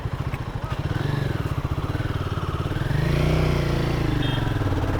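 Royal Enfield Guerrilla 450 motorcycle on a test ride, its engine thumping steadily near by at first, then rising in pitch and loudness as it revs and accelerates.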